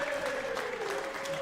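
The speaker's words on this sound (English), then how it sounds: "Fans in the crowd enjoying the maximum from Graham Usher" A darts crowd bursts into applause and cheering after a 180 maximum at a finals night, a dense wash of clapping filling the space with no one speaking over it.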